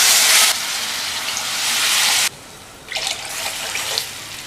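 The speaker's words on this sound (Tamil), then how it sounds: "இதில் வந்து நம்ம 1 கப் ரவைக்கு 3 கப் தண்ணி சேர்த்துடலாம்." Water pours into a pan for cooking semolina in a steady hissing stream, pauses briefly, then splashes in again more unevenly.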